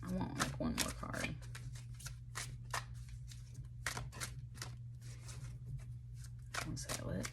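Oracle cards are shuffled in quick, crisp riffles and flicks, close and fairly quiet, repeating in bursts throughout with a faint low hum behind.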